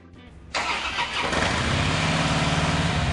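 A 2013 Harley-Davidson FXSB Softail Breakout motorcycle, in Big Blue Pearl paint, cranks briefly and fires up, then settles into a loud, steady, close rumbling idle.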